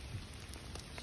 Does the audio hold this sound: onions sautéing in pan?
no